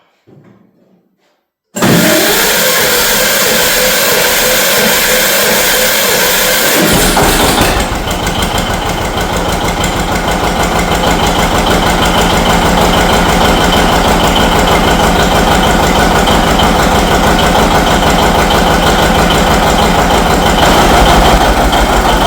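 A John Deere 730 tractor engine cranks over briefly, then catches and settles into a loud, steady idle that runs continuously for the rest of the stretch with no talk.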